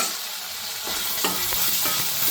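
Chopped beans and carrots fry in oil for a vegetable upma, a steady sizzle broken by several scraping stirs and knocks of the spoon against the pan, close and with no talking.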